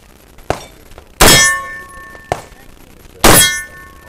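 Two loud metallic clangs from a steel target ring out with lingering resonant tones, each preceded by a sharp gunshot-like crack, close and distinct with quiet gaps between.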